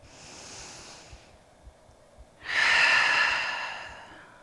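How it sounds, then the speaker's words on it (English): A deep breath during a yoga warrior 2 pose: a soft inhale, a pause, then a louder, rushing exhale through the nose, close to the microphone. "One more breath in here."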